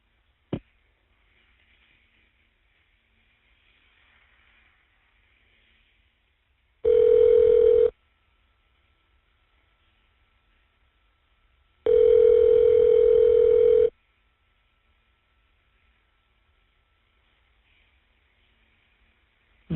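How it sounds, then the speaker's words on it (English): Tone signals on a prison phone call, two separate bursts of a steady ringback-style tone with near silence between them, clear and alone with no talk. "The number is now being dialed."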